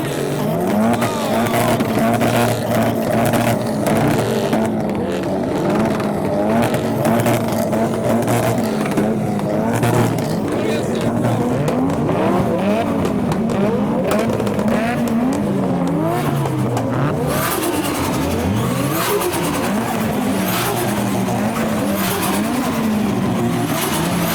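A diesel Skoda Fabia and an S14 drifting at a modified car show, engines revving and rising and falling in pitch, with bursts of tire squeal, loud and continuous throughout.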